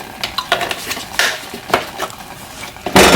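Shrimp and grits broth with garlic and heavy cream stirred in a pot, a spoon knocking and scraping against the metal in an irregular rhythm over a faint simmering sizzle, close and fairly loud, with no talk.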